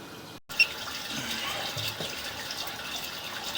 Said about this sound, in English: We've got water running.